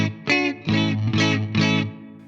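An electric guitar played through the Fender Mustang Micro's 65 Deluxe amp model, which has a bit of grit and distortion, rings out as four or five close, gritty strummed chords in quick succession.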